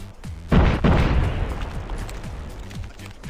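Two heavy booms land close together in a burst of Call of Duty Mobile action, followed by a rumbling tail and lighter scattered pops.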